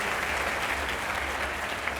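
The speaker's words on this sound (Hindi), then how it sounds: "तालियों के साथ स्वागत किया जाए।" A large audience applauds to welcome a guest at a public stage event, a dense, continuous roar of clapping that stays even and fairly loud throughout.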